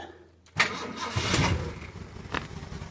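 A classic Ford V4, V6 or V8 engine cranks and catches after a quiet start, then runs roughly with uneven revs and a second surge near the end, close and loud.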